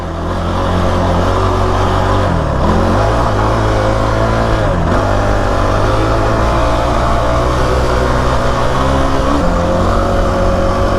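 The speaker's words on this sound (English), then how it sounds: "I'm kind of just cruising 5th. But it'll rev up real fast, too" Kawasaki KFX 450R ATV engine running loud and close while riding in fifth gear, a steady drone with pitch dips and rises as the throttle eases and revs back up, with no voices.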